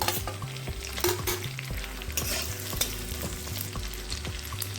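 Cubed onion frying in a pan over a low-to-medium gas flame, a steady close sizzle with a regular scraping, stirring rhythm and no voices.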